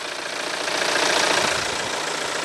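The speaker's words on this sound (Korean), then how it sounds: "엔진을 한번 열었는데 바로 엔진 소리 한번 들려드릴게요." A Mini Cooper D Clubman diesel engine idles steadily close by with the bonnet open, a dense, even rumble with a slight rhythmic knock and no voices.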